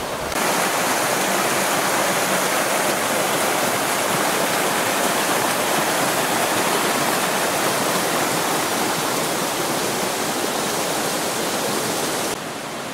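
A babbling mountain river in Stara Planina rushes steadily, a loud, broad, unbroken wash of flowing water that carries on without pause for the whole stretch.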